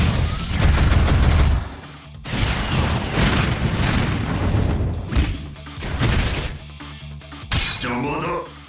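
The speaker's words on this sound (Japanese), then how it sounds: "ミサイル発射。" Missile launch and explosions in One Punch Man Road To Hero 2.0, with a loud blast opening, then dense rumbling booms and crashes through the middle, and a short whooshing burst near the end, with a voice heard under the action.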